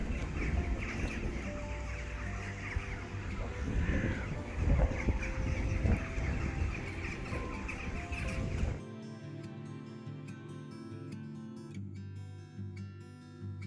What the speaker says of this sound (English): the crows were getting ready to roost for the night